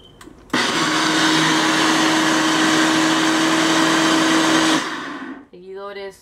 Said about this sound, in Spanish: Voy a poner lo que hay aquí, el repollo y unas pocas zanahorias a licuar.